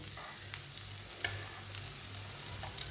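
A rice flour roti cooks with ghee on a hot griddle, a steady close sizzle and crackle with soft scraping and light pressing sounds, and no voices.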